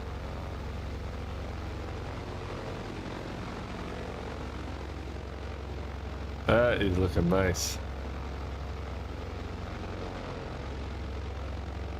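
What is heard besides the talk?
airplane engines in video game Microsoft Flight Simulator 2020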